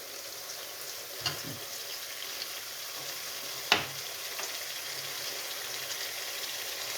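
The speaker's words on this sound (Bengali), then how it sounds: "রসুন বাটা দিয়ে আমি 2-3 মিনিট ভেজে নেব" Garlic paste fries with onions in a pan, giving a soft, steady sizzle with a couple of sharp clicks from a utensil touching the pan.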